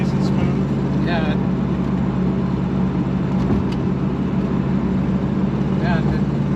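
A numbers-matching 1977 Chevrolet Corvette with an L48 350 V8 and Turbo 350 automatic, heard from inside while driving: a loud, steady low engine drone runs throughout, with brief faint voices at moments.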